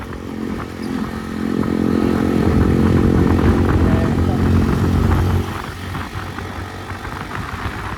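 An air-cooled motorcycle engine runs close by, its rumble rising and holding steady for a few seconds before dropping back to a lower idle.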